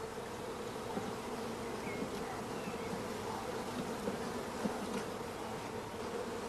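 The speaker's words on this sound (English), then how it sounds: "All bees of each frame are brushed into a funnel over the swarm collecting box" Honey bees from hive frames being brushed into a funnel over a swarm collecting box for queen rearing, giving a dense, continuous close buzzing hum that holds steady throughout with no voices.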